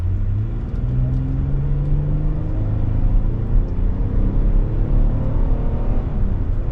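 A 2024 Kia Telluride EX X-Line midsize SUV with a V6 and 8-speed automatic pulls away from a stop, its engine rumbling steadily and rising in pitch as it gathers speed, heard from inside the cabin without talk.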